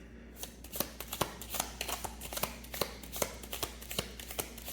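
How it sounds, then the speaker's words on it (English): Tarot cards being shuffled by hand in a quiet room, a steady run of crisp riffling slaps and soft flutters, close and moderately loud, with no talking. "And then I'm going to shuffle again to see if there are any more messages"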